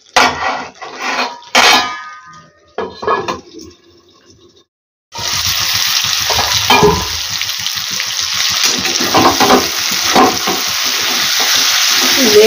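Vegetables and masala fry in oil in a pan for a fish curry. After a few soft knocks and a pause, a steady loud sizzle runs close-up, with stirring scrapes through it.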